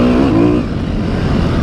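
A 2020 Sherco 300 SEF Factory Edition enduro motorcycle with a full Akrapovic exhaust gives a loud, close, throaty engine burble that briefly rises in pitch and then settles into a rough, steady idle.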